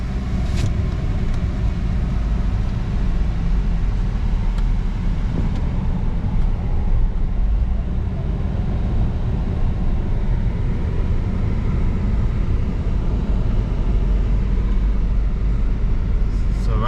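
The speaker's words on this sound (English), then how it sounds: "Right now we're driving through the fishing village that is located at Cape Coast." A car drives through the fishing village at Cape Coast, its steady low road rumble and engine drone continuous and fairly loud throughout, with faint background activity and no clear speech.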